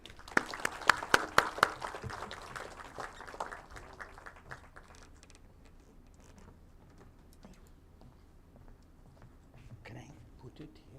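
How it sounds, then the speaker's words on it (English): An audience at a commencement lecture claps to welcome a speaker, with a burst of sharp, close claps at the start that quickly thins and fades into sparse clapping and quiet room noise. "please join me in giving a round of applause"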